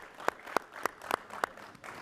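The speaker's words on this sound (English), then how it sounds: "can I have a round of applause for my AI companion?" A handful of faint, evenly spaced claps at a keynote event, with about five sharp hand claps in a steady rhythm over quiet room tone.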